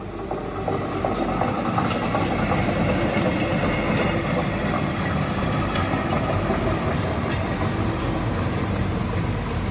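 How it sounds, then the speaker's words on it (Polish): A driverless maintenance locomotive runs along railway tracks with a steady, loud rumble and rattling wheel noise, a continuous rolling roar from start to finish without voices. "Lokomotywa techniczna poruszała się po torach bez maszynisty i nagle stanęła w płomieniach"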